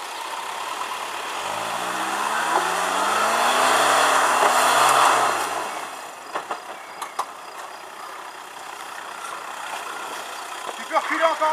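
A 4x4 off-road vehicle's engine revs, swelling louder for several seconds, then easing back to a quieter idle broken by scattered clicks and knocks.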